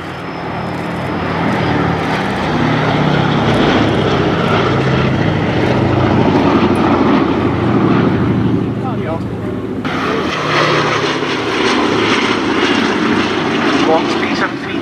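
A B-17 bomber flying at the Duxford summer airshow gives a steady, loud droning roar of propeller engines that holds throughout, swelling slightly toward the end.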